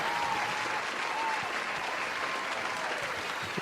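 An applause sound effect plays: a dense, steady wash of many hands clapping at an even level throughout, with faint talk beneath.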